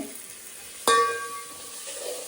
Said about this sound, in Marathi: तर इथे मी अशी फोडणी देणार आहे